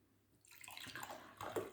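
Tap water pours from a home faucet to fill drinking glasses, a soft rising splash and gurgle that starts after a brief quiet and grows steadily louder, heard close up.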